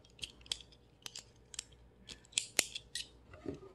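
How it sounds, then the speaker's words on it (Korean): Scissors snip repeatedly through material while cutting parts for a toy dump truck, a series of sharp close-up cuts in an irregular rhythm with no one talking. "여러 번 가위질하고, 슥싹, 슥싹"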